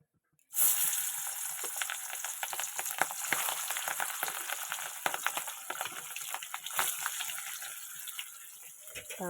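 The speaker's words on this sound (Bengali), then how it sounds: "তো এখন ভেজে নেবো। এই যে কড়াইতে তেল দিয়ে দিয়েছি" Fish pieces rubbed with salt and turmeric drop into hot oil in a wok and burst into loud, crackling sizzling with irregular spits and pops, continuing steadily for around nine seconds after a brief silent start.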